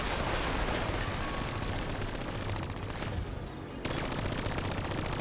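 Rapid machine-gun fire from Call of Duty: Black Ops III, a dense, continuous burst of shots that fills nearly the whole stretch, loud and close, briefly thinning before resuming.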